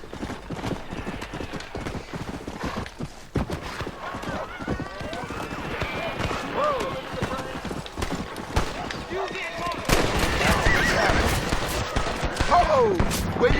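A horse in the Western video game Red Dead Redemption gallops with steady clip-clopping hooves and whinnies, while gunfire crackles and someone talks over the action, which grows louder near the end.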